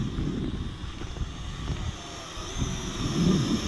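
A JDRC JD20 drone flies outdoors in a breeze, making a steady whirring buzz mixed with low wind rumble that swells slightly near the end, with no talk.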